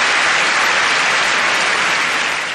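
A large live comedy audience in a big venue applauds steadily, dense continuous clapping filling the room at full volume before easing slightly at the end, with no talk over it.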